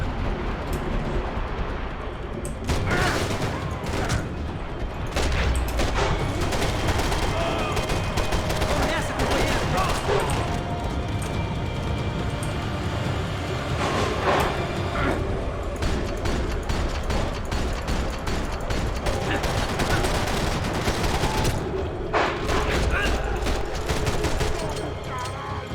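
Gunfire in the Max Payne video game, with rapid bursts and repeated shots in dense volleys over a continuous noisy backdrop, and a voice speaking briefly at times.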